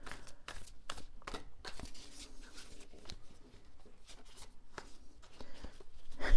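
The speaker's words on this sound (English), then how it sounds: "I haven't learned how to shuffle these cards very well yet" Tarot cards are shuffled close up in a quiet room, a quick series of soft, papery riffles and slaps repeating unevenly at low volume.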